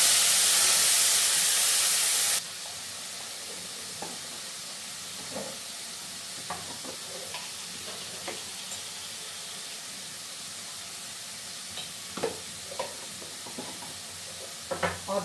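A ground paste of dry-roasted spices drops into hot oil already crackling with cumin seeds, giving a loud hissing burst that soon settles into a softer steady sizzle with scattered pops and stirring clicks.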